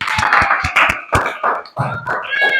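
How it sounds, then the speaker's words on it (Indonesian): A class of students gives a round of applause for a presenting group, with scattered, uneven claps close by and voices calling out over them. "Tepuk tangan yang meriah."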